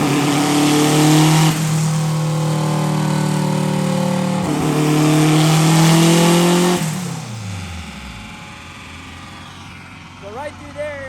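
A tuned car engine running dual injectors in one hole, stabbed on the throttle and held high for two long revving pulls, each dropping away, then settling to a rougher idle with a few light blips.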